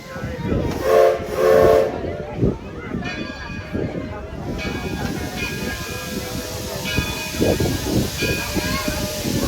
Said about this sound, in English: Once the whistle sounds, it will be safe to exit on the left-hand side.